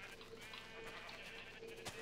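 Sheep in a blocky building video game bleat in a few short, nasal calls over a steady background of game ambience, with no talking.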